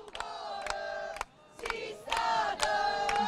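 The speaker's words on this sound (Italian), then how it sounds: "tifosi napoletani che cantano" Napoli rugby supporters singing and chanting in the stands at a Pesaro versus Napoli Afragola match, a loud sustained crowd chorus with rhythmic sharp claps or drum hits punctuating it.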